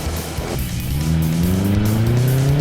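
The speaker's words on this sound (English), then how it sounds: "setting off on their buggy, again powered by a 2-litre engine." An off-road racing buggy with a 2-litre engine pulls away at a race meeting, its engine climbing loud and close in rising revs after a brief rough start.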